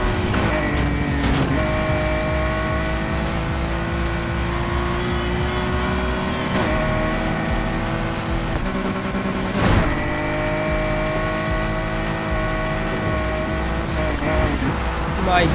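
A Nissan R34 GT-R V Spec in Need for Speed Heat roars with a loud, sustained engine note that rises and falls through revs and shifts, with tire noise and a sharp change near the middle, while a voice talks over it.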